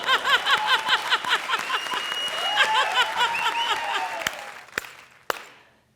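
An audience at a Comedy Circus stage comedy show claps loudly and steadily for several seconds, with whoops and laughter mixed in, before the applause breaks into a few scattered final claps and fades.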